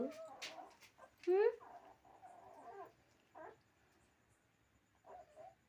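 Puppies whimper and yelp in short, high, whining cries, close by, with quiet pauses between bursts.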